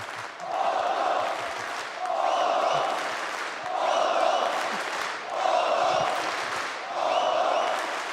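A large esports crowd at the IEM Katowice 2016 Counter-Strike: Global Offensive grand final, Fnatic versus Luminosity, chants and cheers in loud rhythmic surges roughly every second and a half, a massed roar of voices filling the arena.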